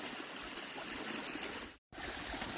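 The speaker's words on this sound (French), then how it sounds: "on tombe sur une toute petite cascade, mais sympatoche, qui traverse le chemin" A small waterfall stream crosses a mountain path near a lake in Auvergne, giving a steady close rush of trickling, splashing water that breaks off briefly before resuming.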